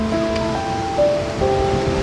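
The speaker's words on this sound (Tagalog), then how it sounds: "Kasi malakas yung alon." Strong ocean waves wash onto a beach resort shore in Naic, Cavite, a steady, loud broadband roar with faint tonal sounds running through it.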